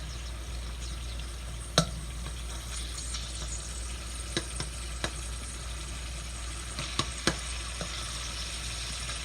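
Coconut residue cooking in oil over medium heat in a pan, giving a steady soft sizzle with a few sharp pops and crackles scattered throughout.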